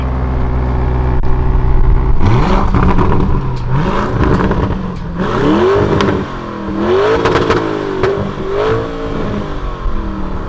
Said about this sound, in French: Je vais accélérer et on va voir le bruit.